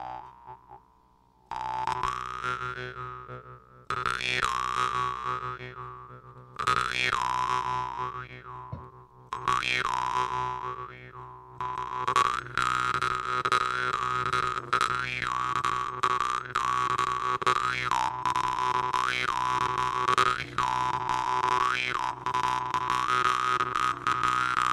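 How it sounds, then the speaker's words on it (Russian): A jaw harp (vargan) is played alone, starting with a quiet twang and then settling into a steady, resonant, buzzing drone with rhythmic plucked boings and shifting overtones. "А вот это варган, и так на нем можно играть."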